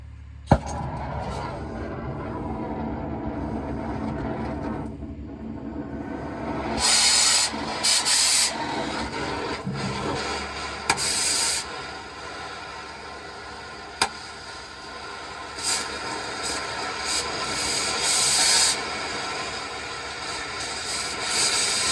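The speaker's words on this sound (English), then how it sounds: "I'm gonna have to ream them holes out." Holes are reamed out with a power tool in a mechanic's shop to take 7/8 U-bolts. Grinding and whirring rises in several loud bursts over a background of shop noise, with a few sharp clicks and no talking.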